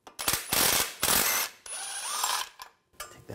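A ratchet with a 15mm socket backs out a bracket bolt on a 2015-2020 GMC Yukon XL during thermal bypass valve work, heard as close, loud bursts of rapid pawl clicking separated by short pauses.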